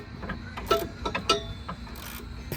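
Ratchet wrench cranking down a bolt on an S2000 steering rack in a turbo S2000 drift car, a few close, quick clicking strokes with short pauses between them.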